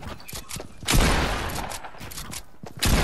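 Rapid video game gunfire crackles in dense bursts, loud and close, during a multiplayer scrim match. The volleys come in several sharp clusters with no talk over them.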